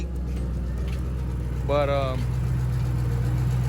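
Car engine with an exhaust leak idling steadily, a continuous low rumbling drone close by throughout, with a brief voice speaking over it midway.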